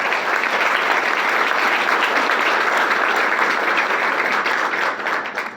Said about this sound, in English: I hope that's clapping for God